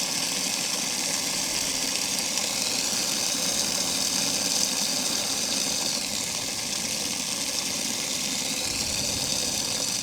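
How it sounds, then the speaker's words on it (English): An approaching car's engine sounds as a steady mid-pitched rumble with a faint whining hiss on top, moderately loud and unbroken, near a rural artesian well. "Hear a car coming."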